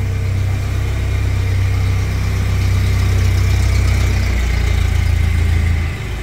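A Komatsu 35 pneumatic-tire forklift engine runs at a steady, loud low rumble while the machine backs up, then drops off slightly at the end.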